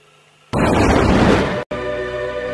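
A single sharp, loud blast hits suddenly after near silence, with a dense roar that sustains, cuts out briefly, then gives way to a lower ringing background.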